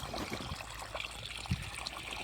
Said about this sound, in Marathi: हे पहा, अशा प्रकारे आपला ऊस आहे आणि त्यामध्ये पाणी चालू आहे.